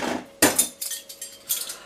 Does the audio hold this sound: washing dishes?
yes